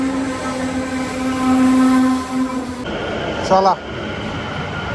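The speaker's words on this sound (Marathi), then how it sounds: "आली बघा आपली ट्रेन." A train pulls into a station with a sustained tonal whistle-like drone, then a brief sharp horn or squeal; a voice speaks briefly over the loud, close rail sounds.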